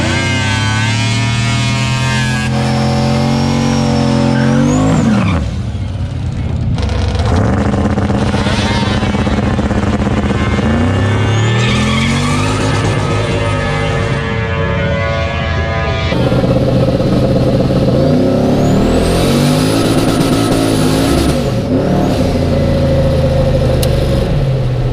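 A $6000 drag car launches down a drag strip with its tires spinning, the engine screaming loud and near through rising gear pulls, a boost whistle riding over the roar.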